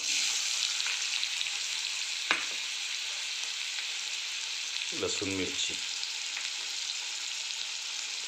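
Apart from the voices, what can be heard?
onion frying in tempering oil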